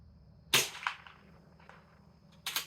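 A single gunshot is fired over a Garmin Xero C1 Pro chronograph, a sharp crack with a brief echo, followed by another short sharp report near the end in a quiet outdoor setting.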